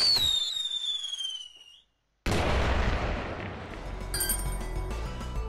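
A prototype Nep shooter weapon fires in Megadimension Neptunia VII: a descending whine cuts to a brief silence, then a loud, sustained, crackling blast rumbles on.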